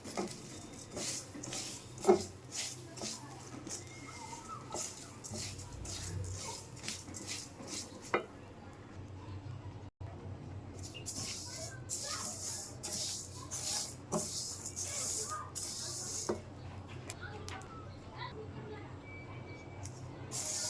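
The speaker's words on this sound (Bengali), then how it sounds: "আমার এই চাল ভাজা, এই যে খুদ ভাজা, এইভাবে ভেজে নিতে হবে সবটা।" Broken rice (khud) dry-fried in a pan, heard as a steady dry rustle and repeated scraping stirs with light metallic clinks, close and moderately loud throughout.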